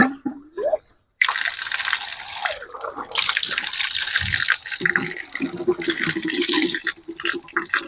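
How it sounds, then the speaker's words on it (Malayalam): Water runs from a home water filter, a steady close splashing flow that starts after a brief pause and continues with a faint voice in the background. "വെള്ളം ഉണ്ടാകുന്നു"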